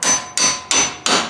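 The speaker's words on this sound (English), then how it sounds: "don't be afraid to hit it with the hammer" Four sharp hammer blows land on a car's front strut to knock it loose, spaced evenly about a third of a second apart, each ringing metallically and fading before the next.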